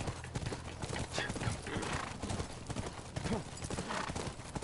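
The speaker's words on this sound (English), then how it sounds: "That's our horse." A horse's hooves clip-clop in a steady trotting rhythm throughout in the video game The Last of Us, with a brief whinny mixed in and voices talking over the hoofbeats.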